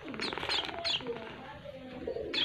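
A munia (emprit) chick gives a few thin, high calls, close by but soft. The calls come in short bursts over a murmur of background voices and low noise.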